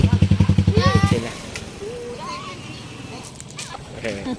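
A motorcycle engine running in a rhythmic, rapid putter that is loud and close for the first second, then drops to a low idle beneath children's and adults' voices.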